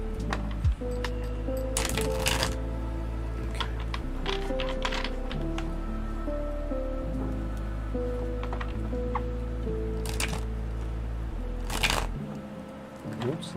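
A tarot card deck being shuffled in a few short, papery riffling bursts, set against a steady musical drone; a voice talks at times.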